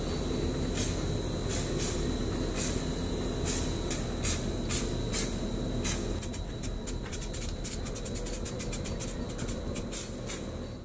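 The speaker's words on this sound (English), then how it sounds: "now I can spray the silver base" A rattle can sprays silver base coat onto car brakes in short repeated bursts, the hiss starting sparse and then coming in quicker pulses over a steady background noise, fairly faint.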